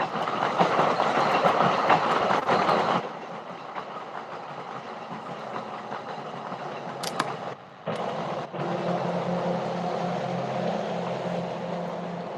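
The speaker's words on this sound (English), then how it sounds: "Man, the trains are busy today." A train rumbles past loud and close for the first few seconds, then continues as a steadier, quieter roll with a brief dip and faint clacking, no talk over it.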